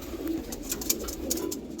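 A Patta pigeon coos softly in low, throaty murmurs amid faint rustling and chirpy background noise, close by and brief.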